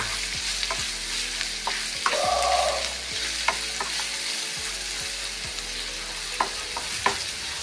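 Sliced onions sautéing in a pan for an onion curry, a continuous close sizzle with regular soft clicks of a spoon stirring against the pan, with no talk.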